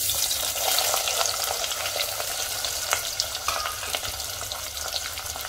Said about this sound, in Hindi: तेल के गर्म होने पर इसमें डाल देंगे प्याज